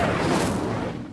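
A fire spell cast in the video game Hogwarts Legacy, a loud, sustained roaring burst of flame that holds steady for about a second before tapering slightly.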